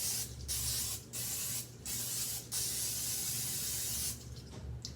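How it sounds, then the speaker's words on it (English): Cooking spray hisses onto a well-used 8x8 or 9x9 baking pan in four short, loud bursts separated by brief pauses, with a fifth fainter burst at the end. "And we want to coat this with some cooking spray."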